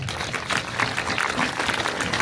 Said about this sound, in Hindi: प्रधानमंत्री बहुत बढ़िया बोले, तालियां बजाए इसके लिए।